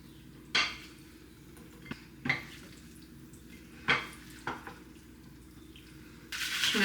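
A salad of corn, feta, cucumber, tomato and avocado is tossed in a bowl. Utensils clink and scrape in a few separate bursts against a quiet room, ending in a rustling stir.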